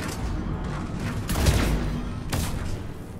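Gunfire crackles in a Mass Effect 3 multiplayer match in loud overlapping bursts, with a deeper boom partway through. Heavy noise fills the whole stretch, and no one speaks.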